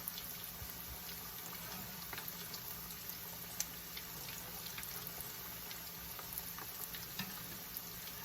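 A shrimp gizzard rice croquette fries in a pan, giving a steady, quiet crackling sizzle with small scattered pops and no talking.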